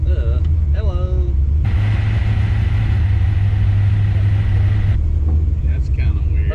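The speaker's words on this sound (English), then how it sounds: "I think it's like shooting exhaust out all the spots that aren't welded" Chevy C10 truck with a big-block engine and a badly welded, leaking exhaust rumbles low and steady from inside the cab while driving, with a heavy continuous drone and people talking over it at the start and end.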